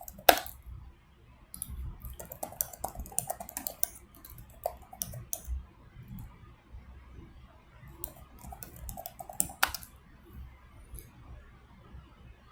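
A computer keyboard clicks in bursts of light typing with irregular rhythm, close and fairly quiet, with a few sharper clicks standing out.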